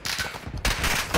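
Dense video-game gunfire in a short, loud burst of rapid overlapping shots, close and continuous, with a brief gap before the firing resumes.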